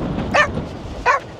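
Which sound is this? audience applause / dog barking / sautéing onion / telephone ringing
dog barking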